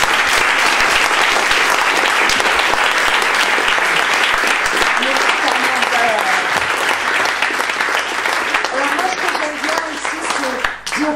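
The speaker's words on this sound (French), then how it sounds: "Donc on l'applaudit." Loud, sustained applause from an audience after a live science and imagination show with live musical accompaniment, dense clapping filling the whole stretch, with a few voices calling out beneath it.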